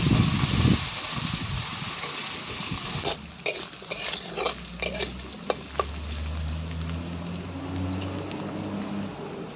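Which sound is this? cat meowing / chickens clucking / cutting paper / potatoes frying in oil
potatoes frying in oil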